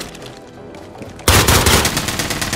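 Gunfire in the video game Warzone: quiet game ambience, then a sudden loud burst of rapid automatic shots that keeps rattling to the end, with no talking.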